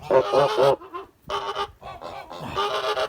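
A goose, likely a young female, honks softly and gently in a few close, separate calls on a farm, with short gaps between the bursts.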